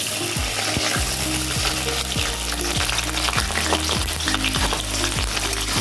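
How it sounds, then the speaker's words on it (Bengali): Potatoes frying in hot mustard oil in a kadai give a loud, continuous sizzle and crackle, with repeated stirring scrapes at a steady pace and no voices. "তো আমি এখন দিয়ে দেব আলুগুলো দিয়ে ভেজে নেব"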